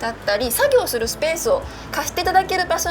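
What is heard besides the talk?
None of the usual background noises is heard.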